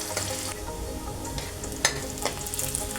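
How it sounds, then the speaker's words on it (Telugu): Onions frying in a pan until browned for chicken curry, a steady close sizzle with stirring scrapes and one sharp utensil clink, no talking. "ఇప్పుడు ఈ ఆనియన్స్ బ్రౌనిష్గా వచ్చినట్టు ఫ్రై చేసుకోవాలి"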